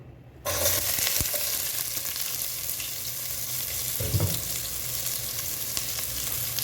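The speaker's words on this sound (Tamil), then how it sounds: "வெங்காயம் போட்டுறேன்." Chopped onions drop into hot oil for beef biryani, bursting into a loud sizzle that stays steady and close, with a brief stir or clatter of the pan near the middle.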